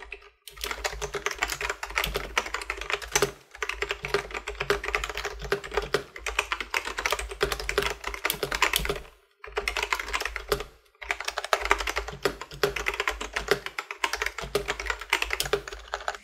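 Rapid, continuous typing on a Cougar Deathfire EX hybrid membrane-mechanical gaming keyboard, close up, with dense clacking keystrokes broken by a few brief pauses.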